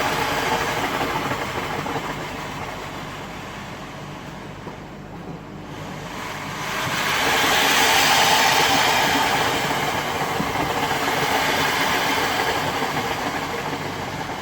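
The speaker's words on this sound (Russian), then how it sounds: "Ну ладно, короче, пар выходит." Water hitting a hot sauna stove releases a loud, steady rush of hissing steam that swells briefly midway and continues broadband and close throughout, with no talking.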